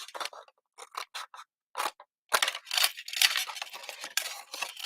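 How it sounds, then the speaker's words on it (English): Scissors snip through paper while cutting out a rectangle, giving several short, crisp cuts up close and then a longer run of steady scraping snips. "So we're going to cut out this rectangle"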